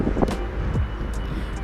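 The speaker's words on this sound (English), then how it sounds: "as you can see, really windy." Strong outdoor wind buffets the microphone in a steady low rumble, with a few brief faint noises passing through.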